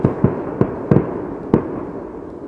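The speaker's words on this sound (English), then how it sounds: "Those are the neighbors in the far distance with their fireworks." Neighbors' New Year fireworks burst in the distance as a handful of sharp, irregular pops over a steady background rumble, with no talking.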